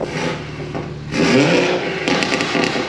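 A BMW G80 M3 engine revs loudly on a city street, a rough sustained roar that swells into a harsher, louder burst halfway through and stays strong to the end, with no talking.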